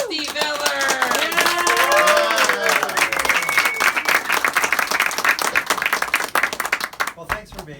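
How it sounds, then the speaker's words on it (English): Close-up audience at the Magic Castle clapping and cheering to welcome a card magician, dense applause with whoops over a few seconds, a voice speaking over it, the clapping thinning out toward the end. "Let's make some noise. Welcome to the stage, Steve Ehlers."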